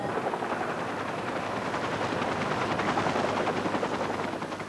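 A rescue helicopter flies over a glacier, its rotor thudding loud, dense and continuous, with a fast chopping pulse, heard alone.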